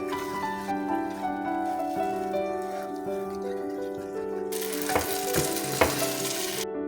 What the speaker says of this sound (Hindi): अभी हम 10 मिनट और इसकी भुनाई करेंगे ताकि अच्छा सा हलवाई स्टाइल हमारा हलवा बन के तैयार हो जाए